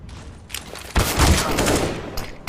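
Rapid CS:GO gunfire during a competitive esports match on the A site, a dense burst of overlapping shots and rattling fire that swells loud near the middle, with a few sharp single cracks toward the end.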